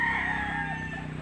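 Chicken in a backyard, a rooster crowing in one sustained call at moderate distance amid steady background hum, with no talk.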